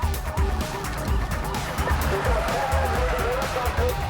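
Car engine and tire noise from a police vehicle being rammed in a TV crime drama, a loud rumbling under shouted speech throughout.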